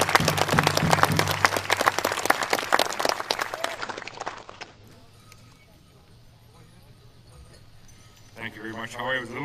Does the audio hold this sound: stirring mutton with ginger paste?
no